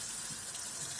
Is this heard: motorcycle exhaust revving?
no